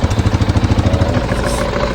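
A 2015 KTM 690 single-cylinder motorcycle engine runs on a test start with the bike partly disassembled and no air filter fitted, giving a steady, loud, close-up idle with an even pulsing beat and no talk.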